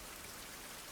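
Steady rain pours down in a survival video game, a dense, continuous hiss of drops spread evenly across the whole moment with no voices over it.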